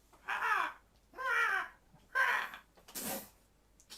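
A seagull calls on a tiny island with a single palm tree, four harsh drawn-out cries in a slow series, fairly clear against quiet surroundings.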